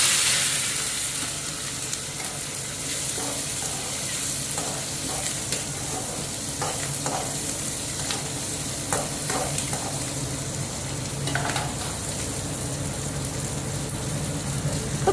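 Onion, green chili and curry leaves frying in a pan for rava upma, a steady close sizzle with occasional stirring scrapes and pops throughout, no voices.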